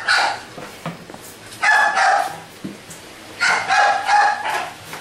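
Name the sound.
dog barking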